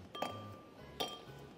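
Ice cubes drop into a glass for a gin and tonic, giving two bright clinks about a second apart, the second slightly softer, in a quiet room.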